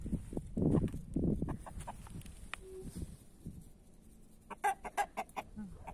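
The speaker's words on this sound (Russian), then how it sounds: "Петух в недоумении." A rooster clucks in a village, a burst of loud, close calls near the start followed by quieter scattered clucks and a few sharp higher chirps toward the end.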